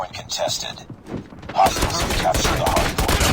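Pistol shots from a .50GS handgun fired akimbo in the mobile shooter Call of Duty Mobile, a burst of loud sharp reports starting partway through, with game sound and a voice behind them.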